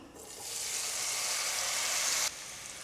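Cauliflower tipped into hot oil in a pan for a quick cauliflower and pea stir-fry bursts into a close, steady sizzle that swells quickly, holds and then drops off abruptly.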